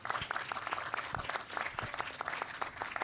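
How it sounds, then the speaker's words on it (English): An audience applauds a panel of speakers, with steady clapping from a modest crowd sustained at moderate loudness for a few seconds, no voices over it. "Can we give them a round of applause, please?"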